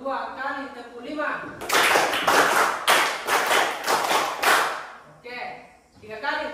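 Ten sharp hand claps in two quick runs of five, loud and close, with a voice speaking before and after the clapping.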